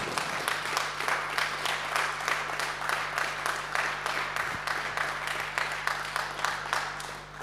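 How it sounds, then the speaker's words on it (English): Steady audience applause, many hands clapping continuously throughout, with a low hum underneath. "I would ask you for a big applause for Ulf for his tremendous job."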